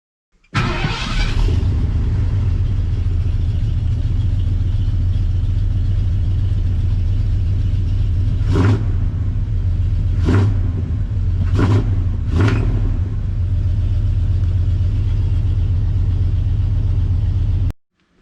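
An old car nicknamed Old Red idling after a fuel pump replacement, a loud steady low rumble from start-up that runs evenly with a few brief throttle blips before cutting off abruptly, close by with no talking.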